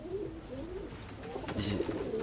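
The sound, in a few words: pigeons cooing in a dovecote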